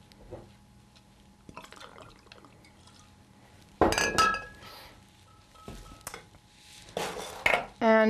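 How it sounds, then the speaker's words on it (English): Glass clinks and tinkles as a lemon splash martini of vodka, amaretto and triple sec is stirred, quiet handling at first, then bright louder clinking bursts near the end. "And we're just going to stir this up."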